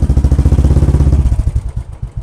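A modified Royal Enfield Classic 350 motorcycle engine thumps close and loud in a rapid, even beat that loosens and fades away after about a second and a half.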